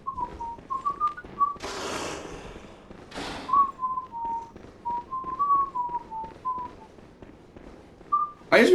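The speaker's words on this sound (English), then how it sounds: "can y'all hear me whistle?" A person whistles a wavering melody of short and sustained notes, fairly close, with a couple of broad rustling bursts between phrases and a sharp knock at the end.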